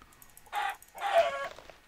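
A Minecraft chicken gives two short clucking calls nearby, clear and fairly loud against near silence.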